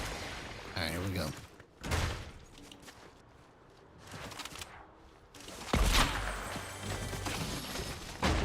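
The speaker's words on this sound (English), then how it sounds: "Where were those gunshots coming from?" Gunshots in a shooting video game crack out in a few separated loud bursts between quieter gaps, mixed with game noises and some speech.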